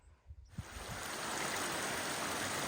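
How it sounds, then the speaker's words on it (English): A small cascade on Eliza Brook, a mountain stream along the Kinsman trails, breaks in after a few faint footsteps as a close, steady rush of tumbling water that fills the rest of the moment. "this lovely little cascade is just, I don't know, 150 feet up"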